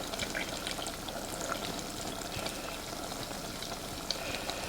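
Butter sizzles and spits in a pan while it splits during pasta sauce cooking, giving a steady, soft frying crackle with scattered small pops, close up and with no talking.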